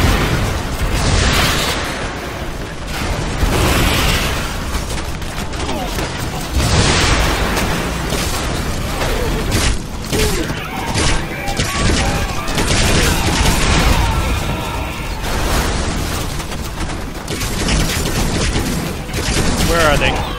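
A giant monster smashes a tower in the game Rampage, loud dense booms, crashes and bursts of gunfire rolling almost without pause, with someone talking over the destruction.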